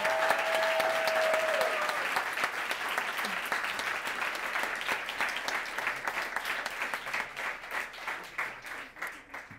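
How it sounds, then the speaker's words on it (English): A large audience at a debate competition gives a sustained round of applause for the students, dense clapping that stays loud and steady, then gradually thins toward the end. "can we please give these students a big round of applause?"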